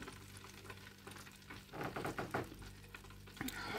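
Battered pollock fillets sizzle in a deep fryer, a soft steady crackle of hot oil with brief louder bursts of bubbling and stirring, fairly faint and close.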